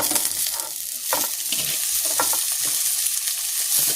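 Snake gourd pieces stirred and fried in a pan with golden sautéed onion and green chilli, a steady close sizzle broken by repeated scraping strokes of the spoon, no voices.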